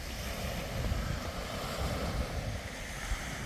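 Waves wash onto a snow-covered Arctic Ocean beach while wind buffets the microphone, forming a continuous low rumbling roar with no break.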